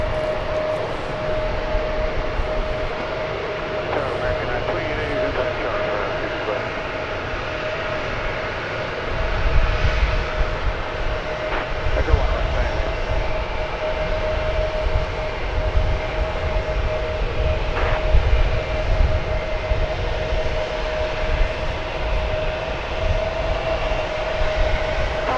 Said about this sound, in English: That's a 9-year-old Airbus A320. It's just getting in line there.